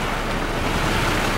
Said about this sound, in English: It is pouring out.